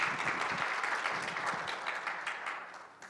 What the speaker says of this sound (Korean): 자, 박수로 맞이드리겠습니다.